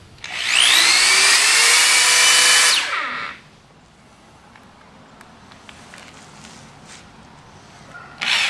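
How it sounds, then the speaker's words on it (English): A power drill bores holes into a wood board while building a chicken brooder coop, whining loud and close for about three seconds with rising pitch, then stopping, followed by quiet handling noises and a brief restart at the end. "So I'm just going to drill a few holes here and put some screws in."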